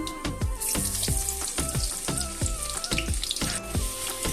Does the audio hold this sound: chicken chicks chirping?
no